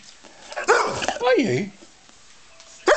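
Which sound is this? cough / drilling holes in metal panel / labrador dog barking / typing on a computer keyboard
labrador dog barking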